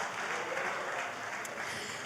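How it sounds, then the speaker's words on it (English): An audience applauds after a fireside chat at the Herconomy Conference, a steady wash of clapping held at even level for the whole stretch, with no voices above it. "Another warm round of applause for that fireside chat."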